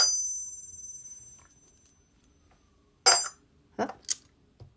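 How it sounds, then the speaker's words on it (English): Pennies are dropped into a case and ring out like a bell. One bright metallic ring fades away, then after a pause a sharp clink and two more quick clinks follow, close and clear against near silence. "It rings like a bell when you put the pennies in there."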